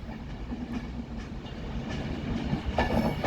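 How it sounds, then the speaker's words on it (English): Avanti Pendolino class 390 electric train approaching Manchester Piccadilly station from London Euston, a faint low rumble with light rhythmic wheel clicks growing slightly louder toward the end. "So approaching now, we have another Avanti Pendolino"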